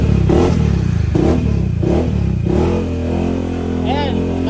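A Yamaha XMAX scooter engine revs after a full CVT setup, with a voice talking over the first half before a steady engine drone carries on alone.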